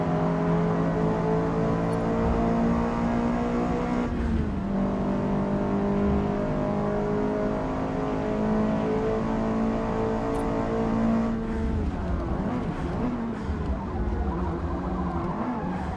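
Race car engine in Forza Motorsport revving hard through the gears, loud and continuous, with pitch climbing then dropping at shifts and climbing again, alone without voices.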